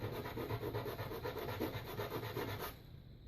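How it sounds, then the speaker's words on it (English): Model airplane part, from a Habu 32X ducted-fan build, rubbed back and forth on a sanding block in quick, even strokes, close and quiet, then stopping abruptly. "I'm going to sand it up just a small amount"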